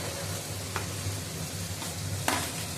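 Fried bitter gourd is tipped into a pan already sizzling with fish oil and stirred for a bitter gourd chorchori, giving a steady close sizzle broken by a few sharp spatula scrapes.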